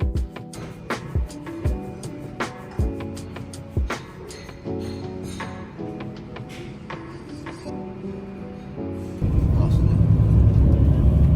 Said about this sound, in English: There was a short bus drive to the aircraft